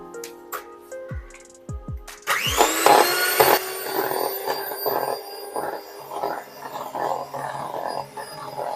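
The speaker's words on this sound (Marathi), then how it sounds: "आता आपण ब्लेंडरने हे पुन्हा एकदा ब्लेंड करून घेऊया" A handheld blender whirs into life and runs loud and close, whining through a vanilla custard ice cream mixture. A few tapping clatters come just before it starts.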